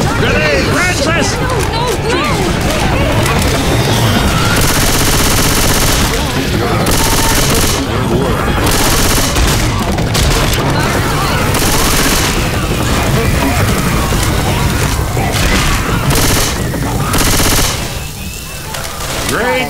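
Left 4 Dead 2 combat on Expert No Mercy: dense, continuous automatic gunfire and booming blasts, loud and close, with characters shouting over the chaos.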